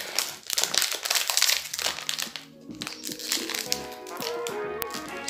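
An ice cream wrapper is torn open and crinkled by hand nearby, with loud, irregular crackling bursts and crunches of plastic that ease into softer rustling.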